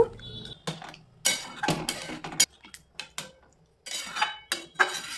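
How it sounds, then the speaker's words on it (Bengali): Mutton curry with warm water added is stirred in a pot, a spoon knocking and scraping the metal in irregular clinks separated by short quiet gaps, close and clear with no voices. "জল দিয়ে দেওয়ার পর আবারও ভালো করে নাড়াচাড়া করে নেব।"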